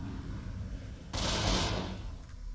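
A rocket trap explodes in the video game Half Dead 2, giving one sudden loud blast that swells into a broad roaring rush and then fades over a second or so, with no voices.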